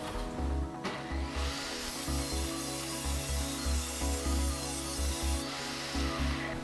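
Table saw trimming the edge grain off a reclaimed pallet wood board, a steady loud whine with pulsing low-end surges as the blade cuts along the length, running continuously without speech.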